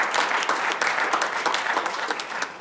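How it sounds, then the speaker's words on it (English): A round of applause at a business board meeting, dense steady clapping from a seated group, fairly close and sustained without talk. "give him a round of applause"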